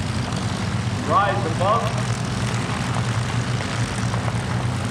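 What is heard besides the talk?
P-51 Mustang propeller aircraft flying over at airshow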